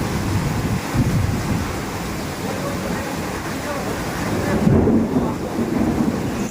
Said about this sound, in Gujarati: વીજળી તો હજી ચાલુ જ થાય છે